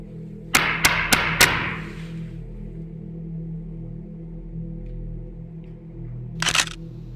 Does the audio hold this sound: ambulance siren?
no